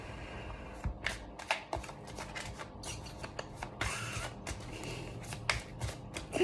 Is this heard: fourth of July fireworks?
no